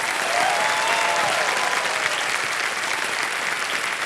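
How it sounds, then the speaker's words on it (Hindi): Studio audience on the Hindi quiz show Kaun Banega Crorepati bursts into steady, loud applause, a continuous wash of clapping filling the room with no voices above it. "तालियां बज जाए"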